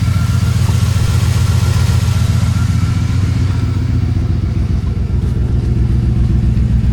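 Cheap used marketplace van engine running right after starting, a loud, steady close-up idle with a rhythmic mechanical clatter throughout.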